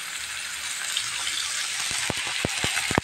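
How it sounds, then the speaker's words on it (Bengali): A little water goes into a pan of frying tilapia curry, giving a steady hissing sizzle, then a run of sharp clinks and taps near the end, heard without any talk. "সামান্য একটু পানি দিয়ে দিলাম।"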